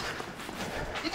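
A goat bleats on a farm, with a dense, noisy layer of sound around it and no clear pauses.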